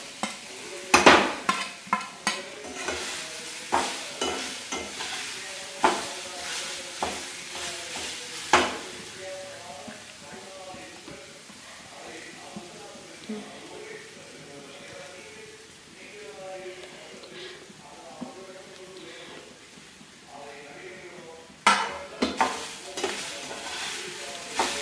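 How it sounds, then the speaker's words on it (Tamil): Semolina and grated coconut roast in a pan over a low flame, with a spatula scraping and stirring in irregular bursts over a soft, constant sizzle, and occasional sharp clanks against the pan. "ரவாயும் தேங்காயும் சிம்மிலே வச்சு வறுக்கணும்."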